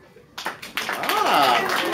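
Applause and cheering from the audience at a Fictionals improv comedy show, International Sailor Moon Day Vancouver 2018, swelling from scattered claps into a dense, sustained roar with voices whooping over it.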